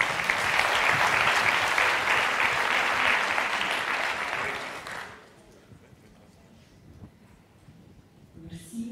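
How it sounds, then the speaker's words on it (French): An audience at a talk on ikigai bursts into dense, sustained applause for about five seconds before it fades to scattered claps and room murmur, with a voice faintly heard at the end. "On peut applaudir."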